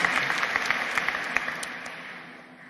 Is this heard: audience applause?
yes